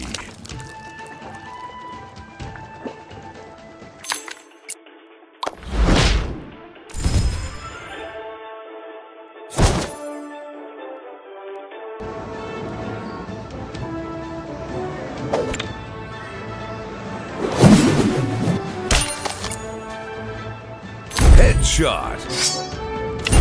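Weapon hits in the mobile game Bowmasters, a series of sharp wet thuds and splatting impacts scattered over a backdrop of game music, some loud and some fainter, with short gaps of near silence between.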